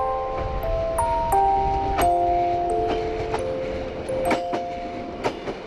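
Railcar train rolling along the tracks, a continuous rumble with rhythmic clicks of wheels over rail joints and sustained tonal squeals, close and fairly loud.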